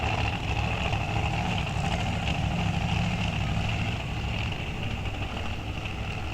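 A drag racing car with a 526 cubic inch Hemi engine rumbles steadily at a raceway, a continuous broad engine drone from moderate distance with no clear revs or launch.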